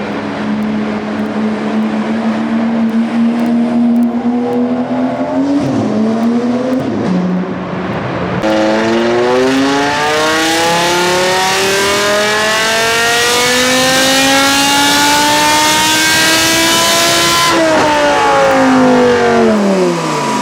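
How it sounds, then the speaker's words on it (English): A loud car engine revs hard and continuously, its pitch climbing and falling through several surges and gear changes, close and dominant with no voices. "Loudest car."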